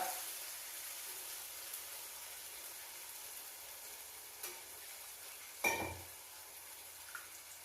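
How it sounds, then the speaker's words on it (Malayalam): Quiet steady sizzling of a fish curry in a pan, broken by a sudden splash as squeezed tamarind water is poured in, then a few soft utensil taps. "ഇതാ പിഴിഞ്ഞ് വെച്ച പുളി ഒഴിച്ച് കൊടുക്കുക"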